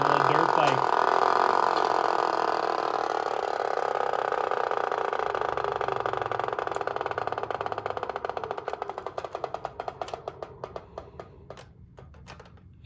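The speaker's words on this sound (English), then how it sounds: "Sounds like a little dirt bike." A 1964 Mattel Booster-Engine V-RROOM toy engine buzzes in a steady, raspy mechanical drone like a small dirt bike, close and fairly loud, then breaks into a stuttering, sputtering run of rapid pops as it winds down.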